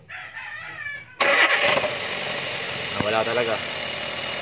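A Toyota Avanza with a faulty number 2 ignition coil cranks and catches, then settles into a rough, uneven idle with a slight stumble; someone speaks briefly just before it starts.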